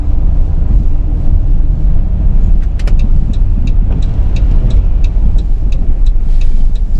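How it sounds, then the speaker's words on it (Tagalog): A car driving on a snowy, slippery road in early morning snowfall, its engine and tyre rumble steady and loud inside the cabin, with a faint regular ticking like a turn signal partway through. "Sasakyan eh."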